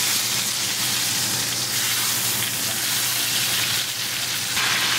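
A turned-over steak spits and crackles steadily in a hot buttery pan. The dense frying sizzle is loud, close and continuous, with no voices over it.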